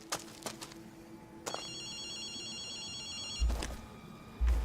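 A payphone rings in the video game Ghostwire: Tokyo, with sharp electronic bell bursts separated by pauses and a warbling tone in between, fairly faint with no voices.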